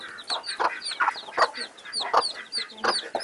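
Chickens cluck repeatedly in quick, uneven bursts, close by, with small chirps mixed between the clucks.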